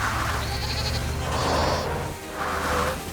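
Cartoon goats bleat in a chorus of wavering, nasal cries, three long bleats in a row over a busy background of firefighting action, loud and close with no talk.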